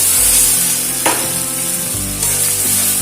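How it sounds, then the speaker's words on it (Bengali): Pointed gourd pieces sauté with spices and Kashmiri red chilli powder in a pan, a loud, continuous sizzle close up with occasional stirring scrapes and no talk. "এবারে 2 মিনিট মতন সমস্ত মশলা দিয়ে একটু কষিয়ে নেবো পটলগুলো"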